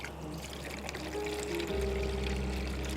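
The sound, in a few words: water poured into sugarcane juice machine for cleaning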